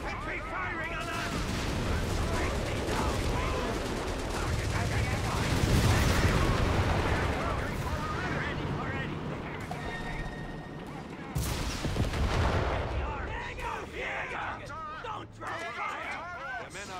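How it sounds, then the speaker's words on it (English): Infantry gunfire in a Company of Heroes 3 battle: dense, continuous volleys and bursts of rifle and machine-gun fire with heavy blasts mixed in, loud and sustained throughout. "Infantry firing on us."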